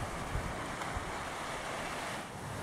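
Ocean waves wash steadily onto a beach, a continuous, full surf roar with gusts of wind buffeting the microphone and no voices.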